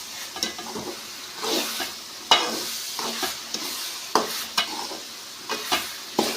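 Gooseberries are stirred in a hot pan while a pickle is made: repeated scraping strokes with sharp clacks of the utensil over a soft sizzle, close up and without talk.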